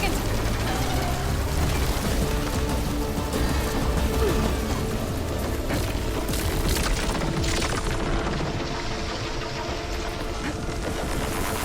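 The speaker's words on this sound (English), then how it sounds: "It's gonna explode any second." A deep, rumbling explosion in the video game Horizon Forbidden West booms loud and continuous, heavy and crashing throughout, with a player talking over the din.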